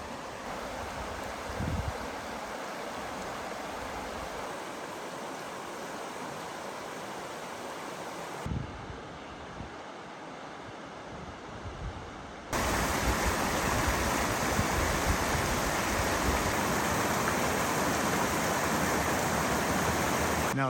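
A creek rushes past a free dispersed backcountry campsite near Panther Creek Campground, a continuous close broadband roar of flowing water that dips softer midway and then swells louder and fuller for the final stretch.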